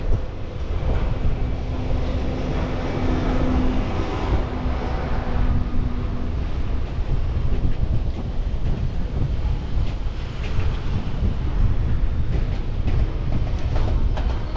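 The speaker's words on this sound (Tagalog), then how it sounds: "Lakas ng hangin dito." Strong wind blows outdoors on the BGC–Ortigas Center link bridge, sounding as a continuous broadband roar and buffeting across the whole stretch. There is a brief low tonal hum early on, and almost no speech.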